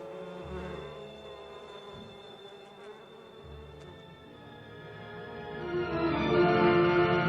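A swarm of bees clustered inside a house buzzes in a layered, droning hum that swells louder and denser toward the end.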